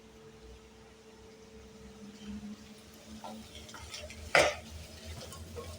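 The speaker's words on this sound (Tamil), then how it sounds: "தக்காளியும் நல்லா வதங்குற அளவுக்கு நல்லா வதக்கிக்கணும்." Tomatoes sautéing in oil in a pan over a low flame for a Tamil Nadu fish curry, with soft stirring and frying noise and one sharp clatter of a utensil against the pan.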